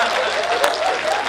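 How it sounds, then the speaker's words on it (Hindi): An audience claps loudly and steadily at a Hindi poetry recital, a dense wash of applause through the whole moment. "हाथ उठा के तालियां बजा रहे हो जोरदार।"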